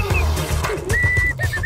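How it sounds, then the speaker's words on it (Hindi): A person whistling with the mouth, a few short thin tones followed by a longer, steady, wavering note, heard loud and close over background sound effects. "अभी तो ये मुंह से सीटी बजा रहा"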